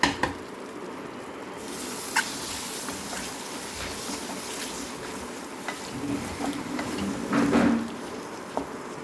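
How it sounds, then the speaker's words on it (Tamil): Boiled eggs being mixed into a pepper masala in a pan, with soft squishing and scraping under a steady low sizzle, a few sharper knocks and a brief louder burst near the end. "இந்த மாதிரி எல்லா எக்கையும் சேர்த்த பிறகு நம்ம நல்லா மிக்ஸ் பண்ணி விட்டுருவோம்"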